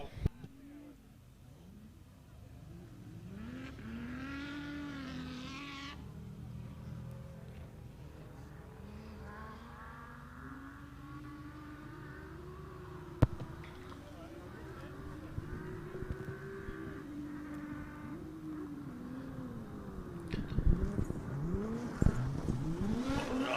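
A bright pink six-cylinder Jimco race car climbs a gravel hill road at a hill climb event, its engine rising and falling in pitch through gear changes as it passes. A commentator talks over it throughout, and stones clatter near the end.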